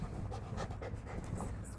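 A dog pants right next to a computer in rapid, even breaths, close and steady against a low background hum.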